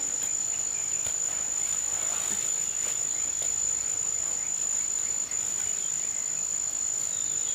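Crickets chirp in a steady, shrill, unbroken trill against a soft background hiss, moderately loud and continuous throughout.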